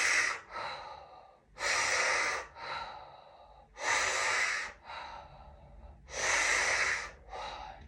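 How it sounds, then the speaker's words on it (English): Deep breaths drawn in and out through the mouth during a rib-cage-opening fascia stretch, heard close and alone: about four steady cycles, each a long, loud rushing breath followed by a shorter, softer one, with brief pauses between. "6 deep breaths here in and out through the mouth"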